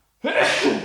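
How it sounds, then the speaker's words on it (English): One sharp, close sneeze bursting out of silence and lasting under a second. "Bless you."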